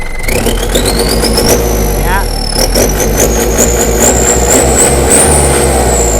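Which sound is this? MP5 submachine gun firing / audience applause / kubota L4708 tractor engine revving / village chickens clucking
kubota L4708 tractor engine revving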